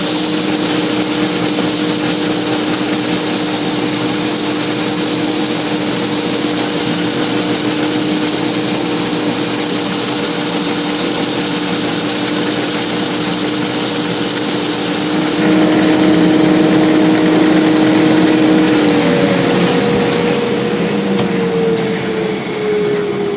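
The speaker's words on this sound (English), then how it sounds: "Again, I'm going to turn on the dust extractor." A workshop dust extractor runs as a loud, steady broadband roar with a constant motor whine throughout, its pitch shifting slightly partway through, with no one speaking.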